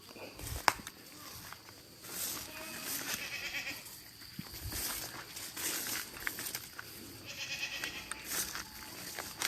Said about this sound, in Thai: แกะแพะ